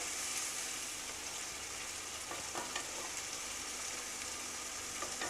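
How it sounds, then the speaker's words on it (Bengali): Chicken pieces frying over a medium flame while cooking Bengali tahari: a steady, soft, continuous sizzle and crackle with occasional stirring scrapes, no voices. "চিকেনটাকে জাস্ট একটু ফ্রাই করে নিতে হবে।"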